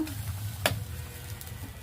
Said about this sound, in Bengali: কুমড়ো, শিম, গাজর, ফুলকপি যা ভেজে রেখেছিলাম, ভাজা সবজিগুলো সব এই দিয়ে দিলাম